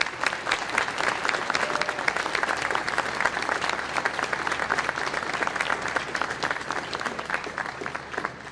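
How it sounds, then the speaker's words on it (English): Audience applause at an aviation maintenance technology graduation ceremony, given for the program's instructors; steady, dense clapping fills the room continuously with no talk over it. "Can we have a round of applause for them, please?"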